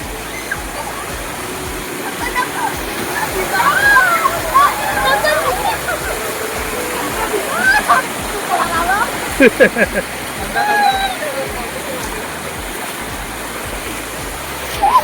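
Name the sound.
Prabalgad waterfall with splashing water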